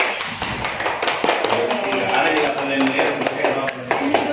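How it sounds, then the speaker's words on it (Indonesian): A classroom of students and teachers clapping hands at the close of a lesson during a teachers' workshop session, a dense, steady patter of claps with sharp individual taps and voices mixed into the background throughout. "Tepuk tangan untuk kita semua."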